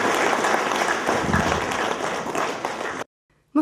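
An audience at an opposition leaders' event applauds to support Mykhailo Holovko, a regional public figure. The clapping is steady and full for about three seconds, then stops abruptly into silence before a brief burst of sound at the very end.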